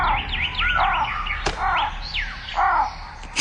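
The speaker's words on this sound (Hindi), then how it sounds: "कौवा काव काव करने लगा" A crow caws repeatedly in short, harsh downward-bending calls, several in a row with brief gaps, fairly close and clear over a faint background, with a sharp knock in the middle.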